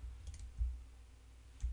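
A few faint computer mouse clicks while working in Praat speech-analysis software, spaced out as small separate taps against a quiet room with no one talking.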